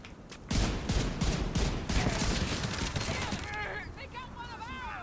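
Rapid rifle gunfire rattles out in The Division 2, a dense loud burst of shots from about half a second that runs for roughly three seconds, then gives way to whistling, chirping game effects.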